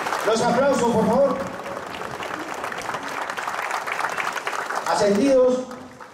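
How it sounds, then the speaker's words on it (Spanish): Sustained crowd applause at a police promotion ceremony, a steady wash of clapping, with a person talking over it at the start and again near the end. "Los aplausos, por favor."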